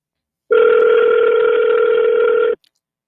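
A single steady ringback tone on an outgoing phone call sounds loud and close for about two seconds, then cuts off.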